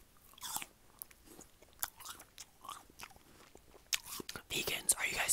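A crunchy green apple is bitten and chewed close to the microphone, with sharp crisp crunches and wet chewing between bites, mixed with whispering.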